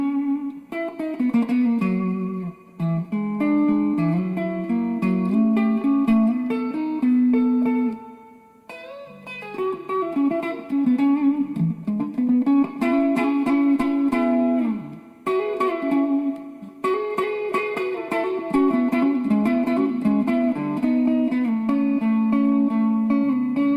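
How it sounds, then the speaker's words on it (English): An electric guitar plays chords and melodic lines through a Peavey Classic 30 amp with its spring reverb turned all the way up, notes ringing into long washy tails, with brief pauses between phrases. "I'm going to go ahead and turn the reverb all the way up to 12 to give you an idea really what this amp can do as far as reverb"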